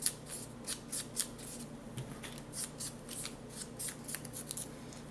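Scissors snipping paper for a Christmas gift scrapbook album, a series of short, crisp cuts in an irregular rhythm, close and fairly quiet, over a low steady hum.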